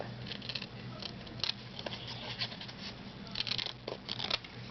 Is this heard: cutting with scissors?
yes